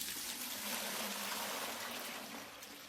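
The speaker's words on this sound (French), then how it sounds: "Je mets de l'eau dedans." Water pours steadily into a homemade washing machine, a continuous splashing rush that stays loud and close for about three seconds before easing slightly at the end.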